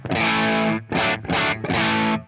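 Electric guitar played through a Victory Deputy amp, its tone dirty rather than clean, sounding as three or four loud sustained distorted chords with brief gaps between them and no talking.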